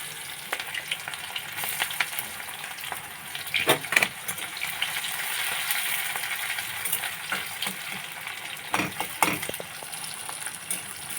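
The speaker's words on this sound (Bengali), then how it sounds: "পেঁয়াজটা ভাজা হয়ে এসেছে।" Chopped onions fry in a pan with whole dried red chillies in hot oil, a steady close sizzle broken by the scrape and clatter of occasional stirring.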